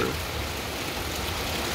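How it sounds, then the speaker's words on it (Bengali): Heavy rain pours down in a dense, steady hiss, close and continuous, with no voices. "এখনো প্রচুর পরিমাণে বৃষ্টি হচ্ছে"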